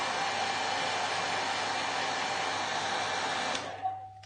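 A hair dryer blasts hot air over wet acrylic paint, a steady loud rushing hiss held for several seconds before it clicks off and winds down, with no talking.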